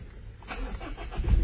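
A manual 2017 Ford Ranger XLS pickup engine cranks and catches via push-button start, rising into a loud, rumbling idle after a brief quiet lead-in, heard close by without talk.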